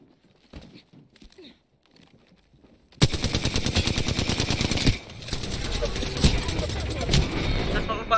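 Video game gunfire in an online team match: after a few seconds of faint talk and quiet, sustained rapid automatic fire bursts in loud, dense rattling volleys that continue to the end.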